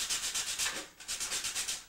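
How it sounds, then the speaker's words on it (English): Sanding African mahogany for a case, with quick, even back-and-forth rubbing strokes in a steady rhythm, close and fairly soft with a brief pause midway. "a lot of sanding."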